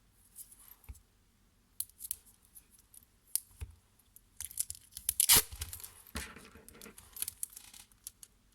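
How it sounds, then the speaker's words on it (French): A short piece of sticky tape is torn off the roll while a cone is decorated for a Christmas table. Sparse close clicks lead into a cluster of crisp crackling tearing bursts, with no talk. "je vais remettre un petit bout de scotch."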